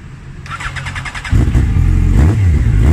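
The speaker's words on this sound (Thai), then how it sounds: "เดี๋ยวฟังเสียงเครื่องยนต์กันนิดนึงนะครับ" A 2011 Yamaha FZ1 with an R1-derived inline-four engine cranks briefly with the starter, then fires and settles into a loud, close, steady idle.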